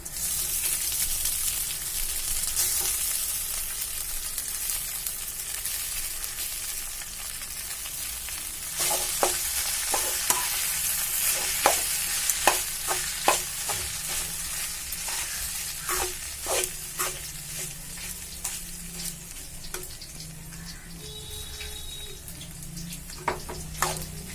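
Crumbled leftover idli being stirred in a pan with oil and asafoetida for idli upma, giving a steady soft sizzle with repeated scraping and tapping strokes of a spoon, growing busier in the second half, with no talk.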